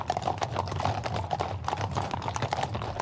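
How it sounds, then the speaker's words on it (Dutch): Friesian horses pull the royal golden coach, their hooves clopping in a steady, even rhythm on pavement at moderate distance, with a faint hum of crowd or ambience underneath. "Daar stappen de Friezen, trots en fier, majestueuze paarden voor de gouden koets van Hare Majesteit."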